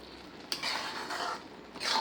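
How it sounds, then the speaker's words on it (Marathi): Carrot halwa with grated coconut and milk, cooked in a pressure cooker, stirred in short soft scraping strokes with a faint sizzle underneath, quiet and close. "छान परतून घेऊया आपण"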